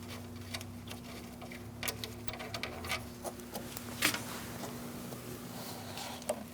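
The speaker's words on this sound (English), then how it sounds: "taking out this bolt" A wrench works a bolt on the AC condenser line of a 2002-2006 Toyota Camry 2.4, giving soft, irregular ratcheting ticks close by over a steady engine-bay hum.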